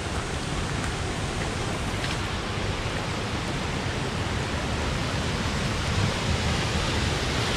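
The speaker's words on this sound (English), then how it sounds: "come up on this absolutely spectacular waterfall." A large spring waterfall roars as a steady, loud, unbroken rush of falling water, with no voices over it.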